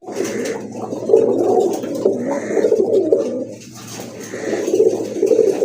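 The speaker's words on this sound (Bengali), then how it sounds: "মাশাআল্লাহ আরেক জোড়া কবুতর দেখতে পাচ্ছেন, সিলভার বাঘা কবুতর" Silver Bagha pigeons coo in close, repeated throaty phrases with brief pauses between them, loud and clear with no talking.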